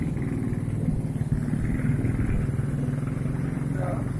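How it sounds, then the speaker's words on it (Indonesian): A Yamaha Mio motor scooter hums steadily at cruising speed on a night ride, its engine drone and road rumble close and constant while a rider talks over it. "Saya lagi bawa motor Mio"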